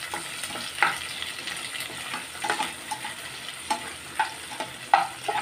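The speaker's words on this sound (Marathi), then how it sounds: "चिकन शिजायला लागलं" Chicken with onion sizzling in a pan while being stirred, a steady frying hiss broken by repeated scraping strokes and light clinks of the utensil every second or so.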